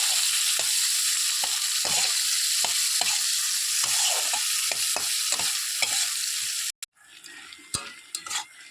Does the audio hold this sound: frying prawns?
yes